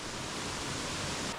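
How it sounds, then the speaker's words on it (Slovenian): Waterfall in the wild Idrija valley region of Slovenia, a steady, dense broadband roar of falling water, loud and continuous throughout with no voices. "Kakšen lep slap."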